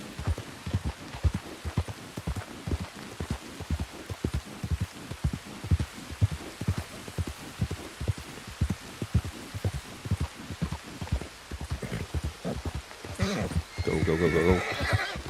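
A spooked horse in the video game Red Dead Redemption 2 thuds along with rhythmic hoofbeats that build into a louder whinny at the end, with no talking.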